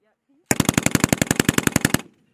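A sustained burst of live fire from M240B and M249 light machine guns at a combat arms training range, roughly sixteen rapid, evenly spaced loud shots in under two seconds, close and sharp, followed by a short fading echo.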